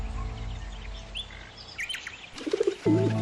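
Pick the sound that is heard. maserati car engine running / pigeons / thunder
pigeons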